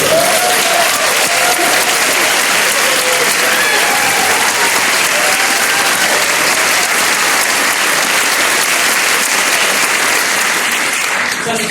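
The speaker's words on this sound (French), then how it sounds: "Quand le chef il arrive, on applaudit" A large opera-house audience applauds steadily and loudly as the conductor arrives for a Carmen performance, a dense sustained wash of clapping throughout.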